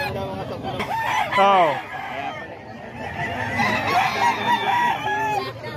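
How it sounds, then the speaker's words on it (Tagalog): Roosters crow among clucking chickens at a Bocaue poultry market, one loud, close crow rising and falling near the middle, with further calls and people talking throughout. "Ito mga manok ni Boss Rod mga kaido."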